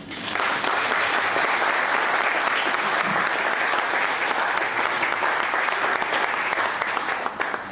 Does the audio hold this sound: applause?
yes